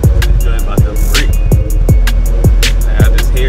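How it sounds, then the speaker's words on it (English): A car driving over potholes on a New Jersey road: a loud, constant low road rumble broken by repeated hard thumps and rattling jolts as the wheels hit the bumps, heard from inside the cabin. "But this is these hot Jersey potholes, man. Sound like this joint about to break."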